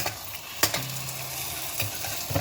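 A potato tortilla fries in a pan with a steady, close sizzle, broken by a few sharp scrapes and taps of a utensil as it is moved and turned, with a low hum underneath.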